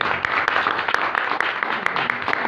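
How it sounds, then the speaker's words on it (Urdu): A church congregation claps loudly during a worship service, producing a brief, dense burst of applause with sharp individual claps standing out from the steady roar. "ایک بار زوردار تالیاں"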